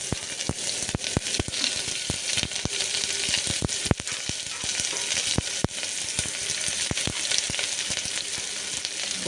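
Onions frying in oil tempered with kalpasi and bay leaves for neichoru, a dense, loud sizzle threaded with frequent sharp crackles and pops, close up and without talk.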